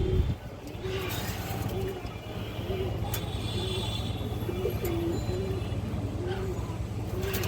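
Pigeons coo repeatedly at a loft where pairs of old-line breeding pigeons, including high flyers, are kept; the soft rolling calls recur steadily over a low mechanical hum and background noise.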